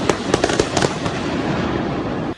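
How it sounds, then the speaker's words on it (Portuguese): Several sharp cracking gunshots fired from a speeding car toward police ring out in quick irregular succession, loud and close, followed by a lingering noisy rumble until an abrupt stop. "tiros são disparados na direção dos PMs"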